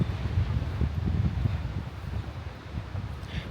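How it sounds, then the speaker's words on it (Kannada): Gusting wind on an exposed cliff-top coastal walk, a steady low roar and buffeting across the microphone, loud and continuous throughout with no other distinct sounds. "ಗಾಳಿ ಇದೆ."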